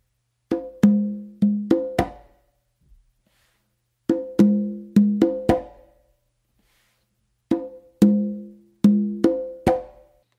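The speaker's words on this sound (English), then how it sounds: "to kind of show you how it would sound when it restarts" Congas play a samba pattern that stops and restarts with an open tone, three bursts of sharp ringing hand strikes in quick groupings separated by short gaps, close and clear with no talking.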